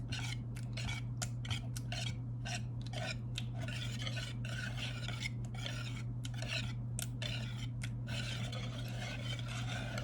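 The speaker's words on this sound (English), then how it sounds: "I'm just beating them enough so the yolks break." Eggs beaten in a bowl for a Texas pecan pie with chocolate chips, quick rhythmic whisking clicks and scrapes, close and continuous.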